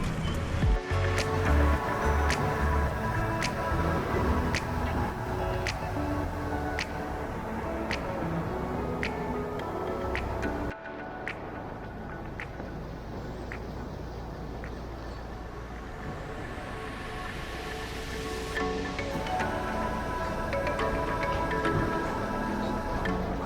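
A Bangkok river boat taxi churns along the water with a loud, steady engine rumble and the constant rush and splash of water against the hull, all close by.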